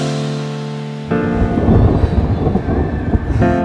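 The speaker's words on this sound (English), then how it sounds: "we're in the middle of a storm." Loud thunder crashes and rolls over heavy rain during a storm at a carp fishing lake, the rumble swelling and churning for several seconds with rain pattering throughout.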